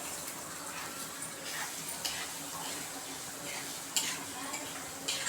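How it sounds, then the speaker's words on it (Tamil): Egg podimas being stirred and sautéed with a spoon in a pan with onions, a soft steady sizzle with scraping and occasional light clinks of the spoon against the pan, close and continuous. "இது மாதிரி நல்லா வதக்கிக்கோங்க"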